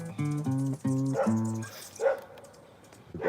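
A dog gives four quick, evenly spaced high barks nearby, followed by softer whines and yips.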